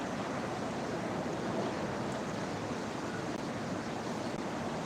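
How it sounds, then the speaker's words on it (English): Loud rushing river water at a riverfront park near swinging footbridges, a steady broadband roar filling the whole stretch without pause, close and dense, with no voices over it. "Can you hear that? The water? It's very loud."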